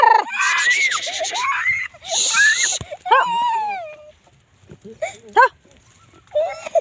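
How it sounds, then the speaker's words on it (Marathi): Goats bleat in several short, wavering cries, close and fairly loud, with voices calling out between them. "थांब दादा शेळी पळायला लागले"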